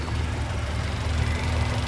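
A 1998 Honda Civic engine idles smoothly after its valve was cleaned, a steady low rumble with faint mechanical ticking, constant in level and heard alone without talk.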